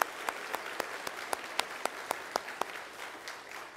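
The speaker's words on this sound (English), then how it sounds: "Just give our graduates one more round of applause." A church congregation at a Sunday morning service claps for graduates, a faint scattering of distinct, evenly spaced claps, roughly a dozen sharp hits over a few seconds, fading toward the end.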